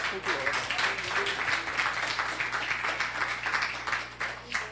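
A congregation applauds in praise to the Lord during a church service, a steady, moderately loud stretch of many hands clapping, with some voices underneath.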